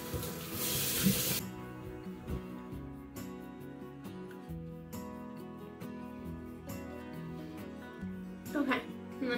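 Tap water running steadily into a sink while a face is rinsed, a soft continuous splashing hiss with a brief louder spray at the start, under light background music.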